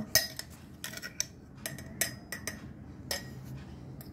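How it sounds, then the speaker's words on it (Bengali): Strawberry bharta ingredients with green chili are mixed in a bowl, giving sharp, irregular clinks and taps of a utensil against the dish, close and without talk. "এখন সবকিছু হালকা করে মিশিয়ে নিব।"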